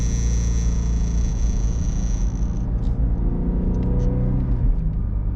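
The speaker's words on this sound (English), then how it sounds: "I hope I don't scare him with the sound of this engine and exhaust" A Ford Shelby GT350 engine and exhaust rumble steadily while the car is driven, with a deep, continuous drone close by throughout.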